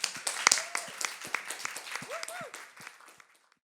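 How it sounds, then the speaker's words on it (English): Audience applause at a music talent contest, a burst of clapping that starts strong and tapers off over a few seconds, with some voices calling out over it. "Round of applause,"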